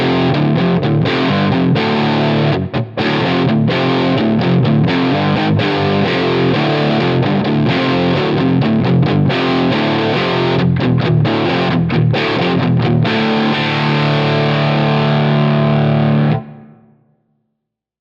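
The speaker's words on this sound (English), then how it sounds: "I'm going to press record, and I'm going to record my little guitar track" An electric guitar is recorded through a Line 6 Helix, playing heavily distorted chords and riffs with choppy palm-muted stops. It ends on a sustained ringing chord that fades out. No one speaks over it.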